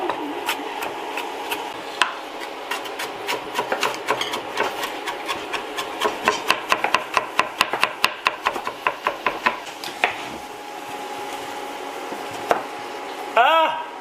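Garlic being minced with a knife on a wooden board in a home kitchen, a run of quick rhythmic chopping taps that speeds up into dense close strikes before trailing off, with a short scraping sound near the end.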